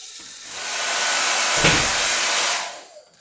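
A hair dryer blows with a steady loud whoosh for a few seconds, then winds down and cuts off near the end.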